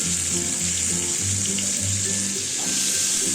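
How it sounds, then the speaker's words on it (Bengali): Potato and pumpkin pieces in hot oil make a steady hiss close by, with faint low hum underneath and no talking. "এরপর আলু আর কুমড়োগুলোকে তেলের মধ্যে আমি দিয়ে দিলাম"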